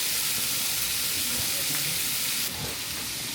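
Butter sizzling in a hot pan before beef mince goes in, a steady dense broadband frying hiss that stays loud and continuous throughout, dropping slightly in level near the end.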